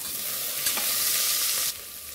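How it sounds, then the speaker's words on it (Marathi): Loud, continuous sizzle of sliced onion frying in hot oil for masoor dal, briefly stirred, then the hiss drops sharply near the end. "कांदा छान हलक्या गुलाबी रंगावर आपण परतून घेणार आहोत"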